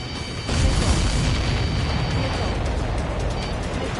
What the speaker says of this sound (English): Missile. Missile incoming! Evade!